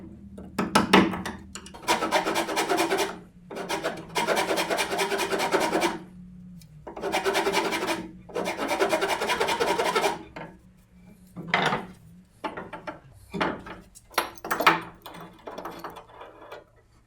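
Wood is hand-rasped to cut a groove for a fitting on a western coach in a coach shop, with several loud rhythmic bursts of scraping strokes separated by pauses and then shorter, choppier strokes.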